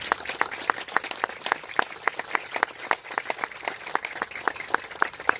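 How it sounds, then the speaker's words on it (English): Small audience applause at a flag retirement and awards luncheon at a Masonic lodge, moderately near, with distinct individual claps forming an uneven rhythm rather than a dense roar. "Please join me in a round of applause."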